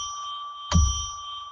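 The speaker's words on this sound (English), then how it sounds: "We're going to ring a bell 3 times now to determine that we have entered sacred" A single bell strike marks the opening of a sacred space during a live psychic radio show. It rings out with a short thump and a sustained ringing tone that lingers over a steady hum.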